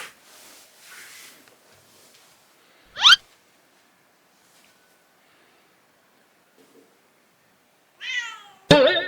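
A kitten near a new cat tower gives two short, close meows several seconds apart, with quiet rustling and near silence in between.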